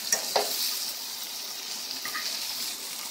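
Homemade meatballs fry in a pan with a steady, soft sizzle, a couple of faint clicks and scrapes near the start as they are turned; no one speaks.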